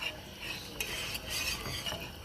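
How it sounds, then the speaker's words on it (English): Cheese sauce for mac and cheese is whisked in a pot, a quick, close, wet scraping and clicking of the whisk with a faint sizzle underneath and no talking. "So I'm gonna keep whisking and we'll show you what that looks like in a second."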